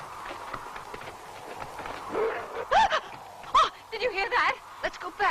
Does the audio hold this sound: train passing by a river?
no